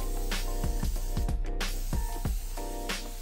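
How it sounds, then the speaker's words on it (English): Cooking spray sprayed onto a pan for pancakes, short hissing bursts repeated at close range, with clattering knocks and thuds from the pan and kitchen in between, fairly loud and with no talking. "Make sure you spray all of it."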